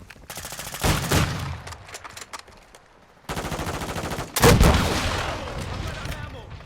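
Rocket weapon fire in Call of Duty Modern Warfare II, with loud bursts of rapid gunfire and a heavy blast and roar from the rocket launch, followed by a long rumbling tail, close and loud with no talk over it.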